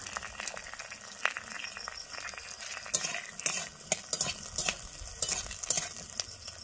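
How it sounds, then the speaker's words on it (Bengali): Onions and green chillies sizzle and fry in a pan for a restaurant-style chilli chicken with gravy, with a utensil scraping and clinking against the pan in an irregular stirring rhythm, close and steady, with no talking. "আমি দিয়ে দিচ্ছি পেঁয়াজগুলো। আমি এরপরে দিয়ে দিচ্ছি কাঁচা লঙ্কা।"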